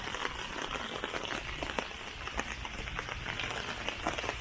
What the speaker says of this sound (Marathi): कसली सर आली होती बघा फार